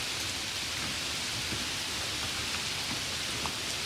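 Cartoon sound effect of rain falling in a village night scene: a steady, even hiss of rainfall continues throughout at moderate level, with no talking.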